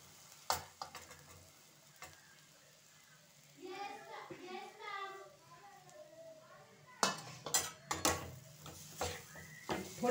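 Desiccated coconut stirred and roasting in melted ghee in a pan, with a soft sizzle, spoon scrapes and a few sharp utensil clatters; a voice talks briefly in the middle.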